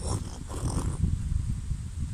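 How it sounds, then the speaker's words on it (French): Low, rumbling buffeting of wind against a microphone, steady and close, with no other clear sounds. "il y a un peu de vent"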